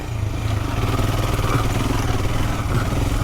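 Royal Enfield Himalayan motorcycle riding through sand, its engine thumping steadily and loudly close by with a continuous low rumble and some clatter throughout.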